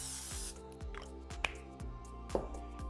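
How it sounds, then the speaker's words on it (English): A spray bottle misting the tops of homemade sandwich bread loaves, several short hissing spritzes in a steady rhythm, close and fairly quiet. "we'll spray the top of these loaves because sometimes they get sticky"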